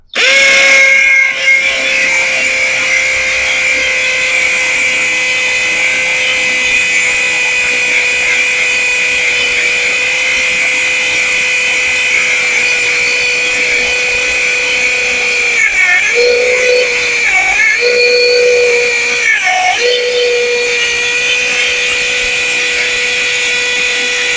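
A loud, sustained STR ST717 impact drill whine runs continuously, close by, boring into concrete, with a few brief dips in pitch as the bit loads up near the end.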